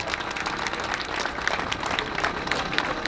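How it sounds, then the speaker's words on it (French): A crowd outdoors at a workers' solidarity demonstration in Annecy applauds steadily. The clapping is dense and continuous at a moderate distance and carries on for the whole stretch. "je crois qu'on peut applaudir"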